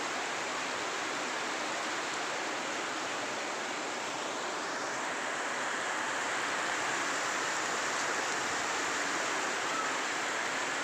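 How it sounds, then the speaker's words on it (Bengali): Heavy rain falling in a dense, steady hiss with no breaks, fairly soft and even throughout, with no voices. "প্রচণ্ড বৃষ্টি।"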